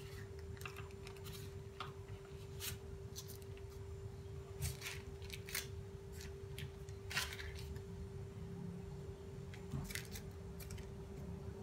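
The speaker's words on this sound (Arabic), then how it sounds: "بقطع العجينة بهيدا الشكل" Puff pastry dough being cut into shapes for mini pizzas, giving faint, irregular snips and taps close by over a steady low kitchen hum, with no talking.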